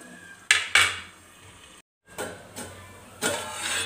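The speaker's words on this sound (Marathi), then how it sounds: "तर मी याच्यावरती झाकण ठेवते, म्हणजे ह्या भाज्या लवकर शिजल्या जातील" A metal lid is set on a pot of cooking vegetables with several clattering knocks and scrapes amid a low simmering hiss. The sound cuts out briefly partway through.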